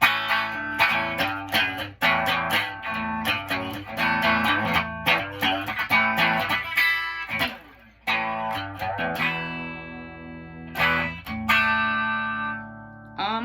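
Electric guitar with heavy distortion plays a chugging, driving riff with sustained crunchy chords, and ringing notes ring out near the end.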